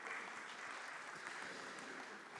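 Steady applause from a seated conference audience welcoming the president of the French society of geriatrics and gerontology onto a panel, dense continuous clapping at moderate level with no talk over it.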